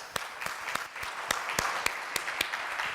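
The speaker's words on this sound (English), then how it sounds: "I would like you to applaud for yourself for doing that." An audience at an American Society of Quality event applauds, a brief round of scattered, distinct claps at moderate volume with no voices over it.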